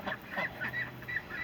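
A farm duck gives a run of raspy, honking quacks in a repeated rhythm at moderate distance, with steady background noise around it.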